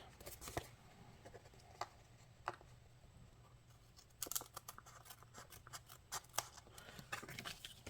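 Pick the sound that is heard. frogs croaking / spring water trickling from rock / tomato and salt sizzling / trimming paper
trimming paper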